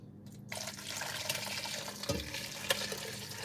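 Liquid poured into a hot pan while cooking breakfast, a steady watery rush with a sharper splash and sizzle partway through, close and fairly loud.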